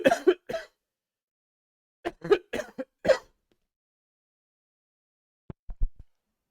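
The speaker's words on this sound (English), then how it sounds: "Excuse me a second while I give a good cough" A person coughs in a few quick bursts, then clears the throat again after a pause, close and alone in a quiet room.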